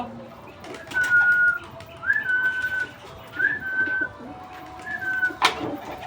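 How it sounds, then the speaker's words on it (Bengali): Pigeons cooing outside a poultry yard, a series of soft, drawn-out calls repeating every second or so, moderately close, with no talk over them. "বাইরে অনেকগুলোই পায়রা ছিল"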